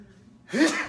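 A single short sneeze bursts out after a quiet intake of breath, close and fairly loud, in a conversation setting.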